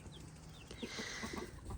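Backyard chickens cluck softly in a flock as new chicks are introduced, with a few short bird chirps and low clucks over a steady, close outdoor background.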